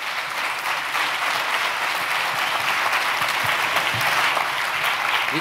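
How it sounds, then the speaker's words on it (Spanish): Audience applause after a keynote lecture at an economics congress, a dense steady wash of many hands clapping at close range, sustained and even for the whole span with no voices standing out. "Un aplauso, por favor."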